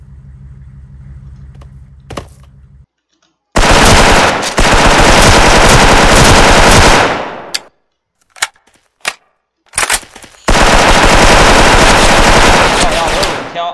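Loud, close rifle gunfire from a shooter video game, with two long sustained bursts of rapid automatic fire separated by a few single shots and brief silences.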